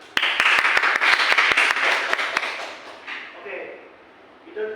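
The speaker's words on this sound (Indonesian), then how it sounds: "Beri tepuk tangan dulu ke depan." Classroom applause from a group of students, a burst of dense clapping with a few sharp individual claps that fades out after a few seconds.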